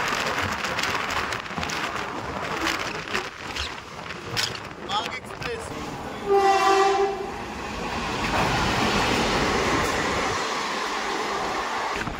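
A Howrah to Mayapur local train runs steadily with a broad rumbling roar and rattling carriage noise, and a loud horn blast sounds in the middle before the rolling din carries on.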